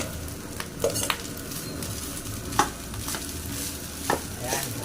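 Fried rice with sliced hotdog and leftover rice stirred in a pan, a steady sizzle and frying crackle with a few sharp scrapes of the spatula against the metal, no talking.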